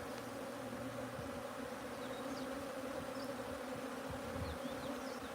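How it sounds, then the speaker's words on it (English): Bees swarm thickly around a hive box at a sanctuary in the morning, their close, continuous buzzing forming an even drone with occasional individual bees whining past. "Just bees all around me at the moment."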